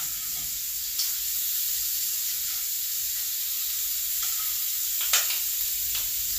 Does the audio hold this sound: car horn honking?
no